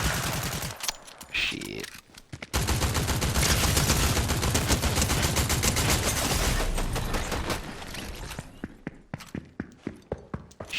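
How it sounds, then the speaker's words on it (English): Rifle gunfire in a video game rattles out in long dense bursts, loud and close, then breaks into separate sharp single shots toward the end; a man briefly mutters over it. "Oh, it's a sniper rifle or something. It's a rifle."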